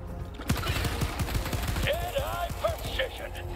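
Rapid automatic weapon fire from the video game Helldivers 2, a dense continuous burst of loud shots, with a voice speaking over the gunfire.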